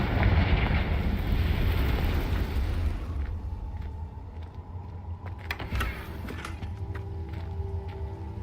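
A Confringo fire-blast spell in Hogwarts Legacy goes off with a heavy, roaring blast that rumbles for about three seconds, then fades into crackling debris and scattered pops over a quieter background.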